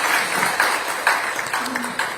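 Crowd applause at a Democratic Party rally in Gwangju, a busy patter of many clapping hands with a few sharper peaks and a faint voice underneath.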